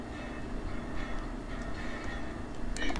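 A train rolls along in the video game Railroads Online, a low rumbling track noise with faint clanks at a moderate distance, with brief clattering near the end.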